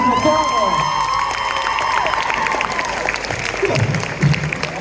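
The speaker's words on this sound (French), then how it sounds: "Encore un tonnerre d'applaudissements également pour les jurys." Audience applause with cheering and whoops at a cosplay contest during a convention in Nantes, a dense, steady clapping crowd filling the room near the mic, with scattered shouts and a voice faintly underneath.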